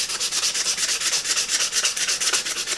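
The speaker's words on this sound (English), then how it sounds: "Just go ahead and sand everything together" Steady, coarse 80-grit sandpaper rubbing rhythmically back and forth over a copper and wood knife handle, a continuous close hissing scratch with no voices.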